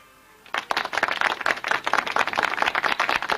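Audience applause for a keynote speaker at an academy awards gathering, erupting suddenly after a brief quiet moment into dense, lively clapping that stays loud and close to the end.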